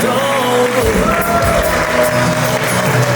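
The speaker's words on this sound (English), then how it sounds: "Big round of applause, ladies and gentlemen, your groom and his mom." Wedding guests at a reception at Stone House at Stirling Ridge in New Jersey cheer and applaud the groom and his mom, a loud, steady crowd roar with whoops and voices mixed in.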